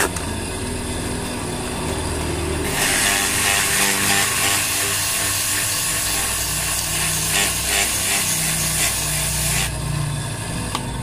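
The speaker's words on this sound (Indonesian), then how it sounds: "Ini kita amplas dulu ya supaya bersih." Steady scratchy sandpaper sanding against a spinning water pump shaft, a loud rasping hiss that runs for several seconds over a constant motor hum.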